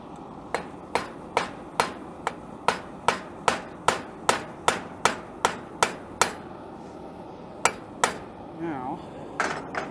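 A hammer strikes a rivet on a metal bending jig in a quick, even series of about a dozen sharp ringing blows. After a short pause come two more hits and then one final strike.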